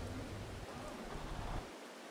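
Rainfall in the video game Farming Simulator 22 makes a brief, constant hiss with a low rumble underneath that cuts out near the end, with no voices.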